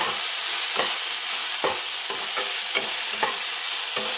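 Vegetables (field beans and potatoes) stirred in a pot for masale bhat, with a steady low sizzle and spoon scrapes and clinks recurring about every second, close and moderately loud, no talking.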